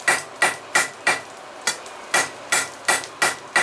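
A blacksmith hammers a taper into thick stock on an anvil, roughly ten sharp metallic blows in an uneven rhythm, each ringing briefly before fading. No voices are heard.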